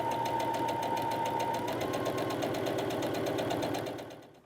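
A sewing machine back stitches a seam on a grocery tote bag, its motor whirring with a rapid, regular needle beat close and steady for about four seconds before winding down.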